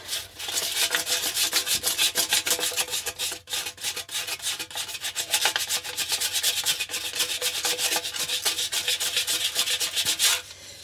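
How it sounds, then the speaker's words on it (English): Coarse sandpaper rubs back and forth over a tire plug area in fast, even strokes, loud and close for about ten seconds with a short pause near the start. No voices are heard. "Some coarse sandpaper to sand it."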